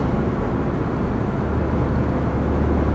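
A muffler-deleted 2013 Ford Fusion Titanium cruises uphill on a highway, its exhaust a steady, loud low drone mixed with road and wind roar inside the cabin, with no talking.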